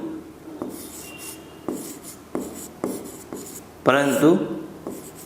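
A pen writing by hand on paper during a maths lesson, with short rhythmic scratching strokes close by and a teacher's voice speaking briefly.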